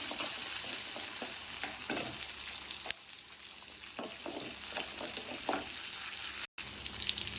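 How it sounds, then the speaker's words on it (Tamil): Small onions sautéing in hot oil for a black urad dal chutney, a steady close sizzle with scattered stirring scrapes and a brief dropout near the end. "ஒரு பதினஞ்சு சின்ன சின்ன வெங்காயம் சின்ன வெங்காயம் போட்டு அதையும் நல்லா வதக்கலாம்"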